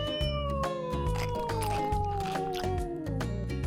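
A cartoon cat lets out a long, drawn-out meow that slides downward in pitch over a steady musical background, in a children's animated learning show.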